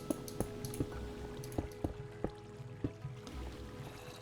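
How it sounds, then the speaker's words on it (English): Running water in the Minecraft video game, a steady liquid wash beneath repeated sharp clicks and taps at irregular intervals, with a low hum throughout and no talking. "I can now hear running water."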